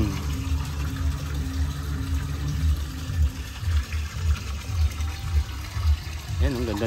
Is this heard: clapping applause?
no